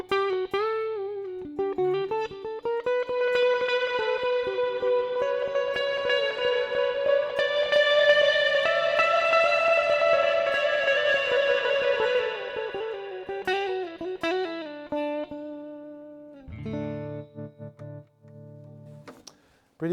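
Electric guitar played through an auto reverb pedal whose level is modulated by a control voltage, notes ringing out through a swelling, shifting reverb that rises and fades, with lingering echoing tails and a few plucked phrases near the end.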